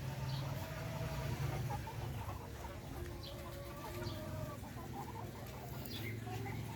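Hens and chicks cluck on a small farm, soft repeated clucks and peeps from several birds at moderate distance over a steady background hum.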